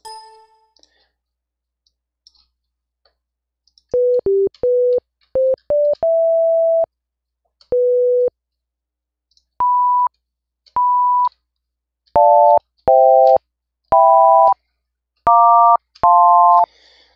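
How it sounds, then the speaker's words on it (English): Pure electronic sine tones from an FM synthesizer sound alone, first short single notes, then longer held notes and paired or stacked pitches, each starting and stopping abruptly. "that's really the most basic sound wave that you can get with FM synthesis"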